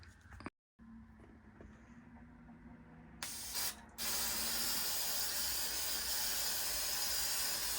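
Wood lacquer sprays onto keychains in a quiet room, a soft hiss that starts with a short burst and then swells into a strong, continuous spray to the end, with faint clicks of the nozzle mechanism before it.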